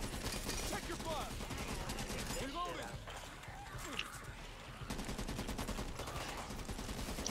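Video game gunfire, bursts of rapid automatic shots crackling loudly in clusters, with people talking over the shooting throughout.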